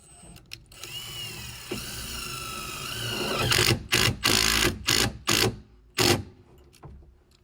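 A power driver with a 5/16 bit drives a screw into a poly fence lifter pipe, whirring steadily up close, then ending in several short loud bursts and stops as the screw seats.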